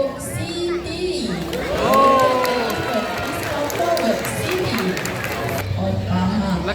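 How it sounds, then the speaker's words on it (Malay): An audience at an elephant show claps and cheers for an elephant named Siti, crowd noise and chatter under a speaking voice through most of the stretch. "Sila berikan tepukan untuk Siti"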